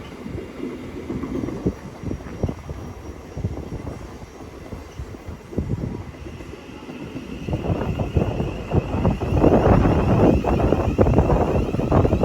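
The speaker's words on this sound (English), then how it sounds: "Incoming now is the 1246 Tramlink service to Horsham from Peterborough, 700 135." Class 700 Thameslink electric train pulling into East Croydon on the Brighton Main Line, a steady rolling rumble with clattering wheel noise that swells louder toward the end, wind buffeting the microphone throughout.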